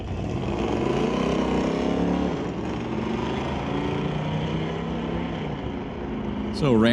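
A 3,800-pound 1958 Oldsmobile drag car runs down the strip at a test-and-tune drag race, its engine a steady, continuous roar heard from a distance, with a sharp, louder burst at the very end.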